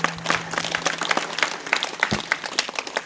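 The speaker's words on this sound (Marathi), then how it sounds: "यांच्यासाठी जोरात टाळ्या वाजवा एकदा." Audience applause at a kirtan performance: dense, steady clapping from many hands fills the whole stretch at moderate loudness, with no voices over it.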